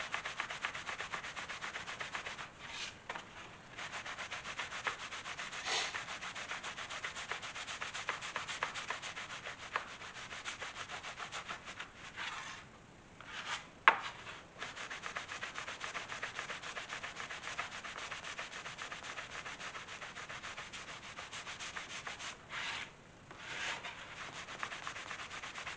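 Microfiber towel buffing a leather trunk handle, a continuous close rubbing swish with rhythmic strokes and a few brief pauses, no talking.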